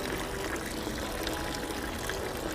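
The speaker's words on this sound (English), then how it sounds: "Yep, water has boiled, so I'm going to go ahead and dump it in there and raise the temperature" Freshly boiled water poured into a lunchbox cooler used as a makeshift sous-vide bath, a continuous splashing, gurgling pour that stays even and close throughout.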